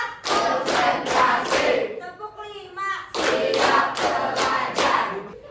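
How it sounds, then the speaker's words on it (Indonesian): A class of students clapping together in a counted rhythm during a classroom ice-breaking activity, with bursts of group claps separated by a short pause, loud and close, with voices under the claps. "Ibu akan melakukan ice breaking dengan cara kita tepuk seperti biasa."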